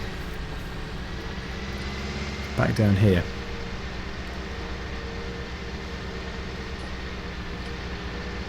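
A McCormick tractor in Farming Simulator 19 drives toward the main road with a steady, even engine drone that runs throughout, and someone speaks briefly over it partway through.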